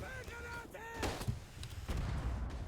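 Grenade blasts in the World War I shooter game Verdun, heard as a couple of dull, booming thuds amid battlefield noise, fairly distant and muffled, with some speech-like tones at the start.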